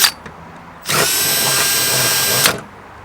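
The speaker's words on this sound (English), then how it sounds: "so now that I drilled it out" A power drill bores out a bracket mount on a Mitsubishi Evo X bumper: a brief blip, then a loud, steady, high-pitched whirring run of about a second and a half that stops abruptly, heard close up.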